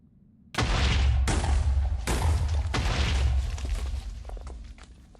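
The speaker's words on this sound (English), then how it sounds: "Okay, so I guess we'll just cause a smaller kaboom for now." A cluster of deep booms from an explosion in the video game Minecraft, several heavy blasts in quick succession that rumble loudly and then fade out.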